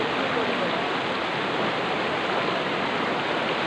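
Steady broadband rush of river water flowing through a jungle during a fishing trip, continuous and fairly loud with no breaks, no voices over it.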